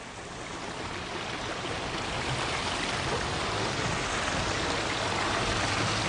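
Steady, full rush of water pouring off a Pure Falls 5000 pond filter waterfall, constant and close with no break across the stretch.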